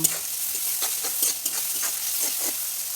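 Chopped onions and green chilies sizzle in a pan for chow mein while a utensil stirs and scrapes through them in soft, repeated strokes, with a steady hiss underneath.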